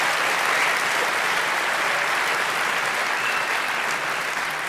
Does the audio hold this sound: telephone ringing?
no